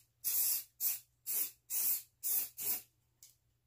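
Adhesive sprays from an aerosol can for a Dollar Tree Christmas rolling-pin craft in six quick, close hissing bursts, each about a third of a second, then a brief weaker puff.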